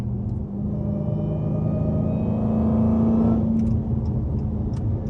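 A Dodge SRT Hellcat engine rumbles loud and close, building steadily in a deep roar as it accelerates, then easing off near the end with faint clicks.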